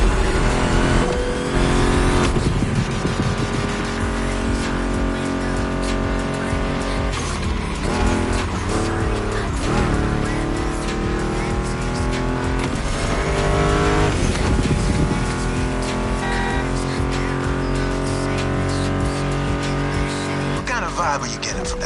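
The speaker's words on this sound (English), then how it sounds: "What are you getting from that Mustang GT?" A Ford Mustang GT muscle car racing in The Crew Motorfest on PS5, its engine roaring loud and continuous with revving surges and tire squeal throughout.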